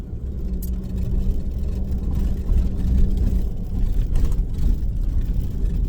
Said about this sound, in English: A single vehicle leaving well 15 towards well 16.